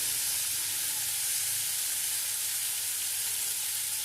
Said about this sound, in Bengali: এবার আমি করলাটা দিয়ে দিচ্ছি, সর্ষে দিয়েছি আর বিউলির ডাল দিয়েছি, এর মধ্যে করলাটা দিয়ে দিলাম